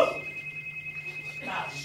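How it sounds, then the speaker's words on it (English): A cell phone rings in a sitcom poker game scene, a thin steady electronic tone pulsing in a quick regular rhythm at low level, with room tone and brief voice sounds around it. "It's my cell phone."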